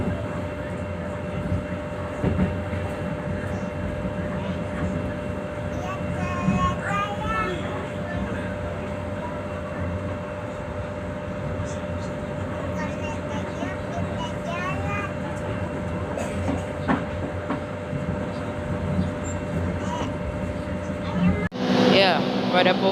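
The Argo Parahyangan train, bound from Bandung to Gambir, passes near Cikarang station with a steady rumbling roar and a sharp burst near the end, while someone talks over it.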